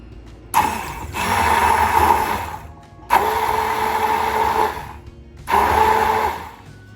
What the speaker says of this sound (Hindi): अब हम इसको करेंगे ब्लेंड